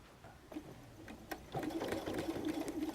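Sewing machine stitching back over seam lines on a messenger bag's lining, starting with a few short bursts and then running in a steady, close, whirring rhythm.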